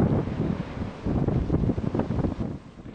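Strong wind gusts around a Dutch windmill and buffets the microphone in a rough, continuous roar that swells and eases, with no voices.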